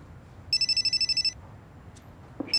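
A telephone rings in two bursts of rapid electronic trills, the first lasting most of a second and the second cut off at the end, loud and close in a quiet room.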